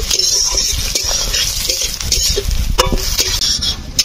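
Hilsa fish with green chili is stirred in a frying pan, the utensil scraping and clinking against the metal in uneven strokes over a low sizzle, close and fairly loud, with no talking.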